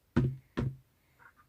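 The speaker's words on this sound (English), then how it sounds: "Michael, I just knocked the phone down" A phone knocked over inside a car, giving two sharp, close thuds about half a second apart, followed by a couple of faint, brief clicks.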